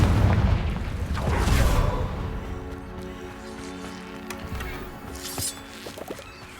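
A Confringo blasting spell goes off in a video game: a loud, deep boom with a booming tail in the opening two seconds, then a lower, rumbling ambience that stays steady.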